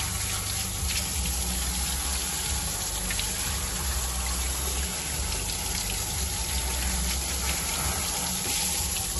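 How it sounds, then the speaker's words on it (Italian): Steady, loud shower spray runs continuously with no pause, rinsing off sea salt after a swim at Rivabella. "Dopo un bagnetto bisogna fare una doccia per levarsi il sale da dosso."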